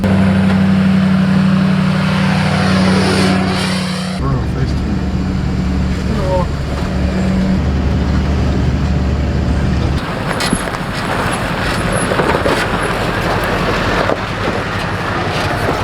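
A Duramax-powered H1 Hummer driving off-road on farm land, its diesel engine droning loud and close with a steady low rumble that shifts in pitch partway through, while someone talks over it.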